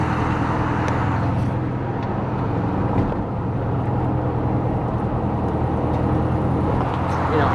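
A Pontiac Tempest restomod cruises on the freeway at a relaxed 1500 RPM, its engine a steady low drone mixed with road and wind noise from inside the car.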